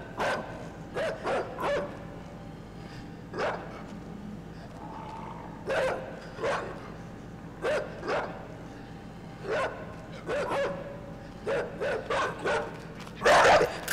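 A dog barks in a video game: repeated sharp barks and yips, some in quick clusters and others spaced out, fairly close over a low hum.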